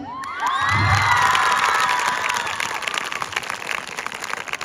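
A crowd of schoolgirls cheers loudly at a girls' school games day in Baliawali. Overlapping shrill shouts swell in the first two seconds, then ease into a steady, busy crowd murmur.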